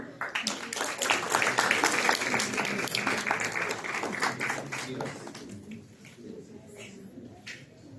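A congress audience at a nutrition and emotional health event gives a burst of strong applause, dense clapping that holds for several seconds, then thins to scattered claps as a voice speaks.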